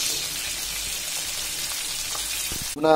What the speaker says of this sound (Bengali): রসুন, কাঁচামরিচ, টমেটো তেলে দিয়ে দিছি। এগুলো এবার ভালোভাবে ভেজে নিব